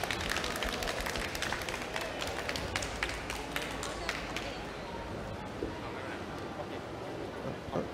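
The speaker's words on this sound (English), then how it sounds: "Big round of applause." A conference audience at a travel association event applauding as a speaker is welcomed to the stage, crisp claps in the room that thin out and give way to quieter ambience.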